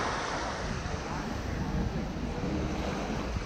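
Pacific Ocean surf, a steady broad roar of waves mixed with wind buffeting the microphone, loud and continuous with no distinct breaks.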